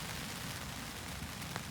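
Rain patters steadily on a 5x5 tarp, making a soft, even hiss with a few faint taps.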